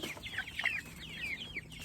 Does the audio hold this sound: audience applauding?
no